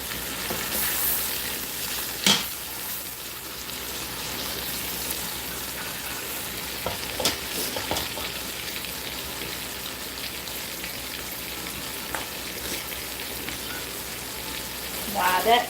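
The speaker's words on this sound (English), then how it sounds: "when you sear your meat, even if you're gonna pressure cook it, when you sear it, locks in the juices" Pot roast meat searing in a hot pot, giving a steady soft sizzle and crackle throughout with a few sharper pops and clanks, moderately close and fairly quiet.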